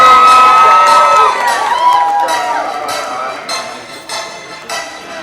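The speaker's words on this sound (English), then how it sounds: "Alright, give him a round of applause. Come on, give it up." Wedding guests clap, cheer and whoop for a newlywed couple, loud at first with music-like tones, then fading into scattered bursts of crowd noise.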